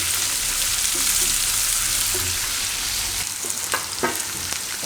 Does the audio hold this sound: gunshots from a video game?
no